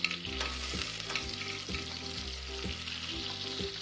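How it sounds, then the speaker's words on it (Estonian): Butter melting in a pot on the stove gives a steady sizzle and crackle of frying fat. The hiss runs continuously, close and moderately loud, over a low background hum, with no voices. "Ja selle võitüki paneme siia potti sulama."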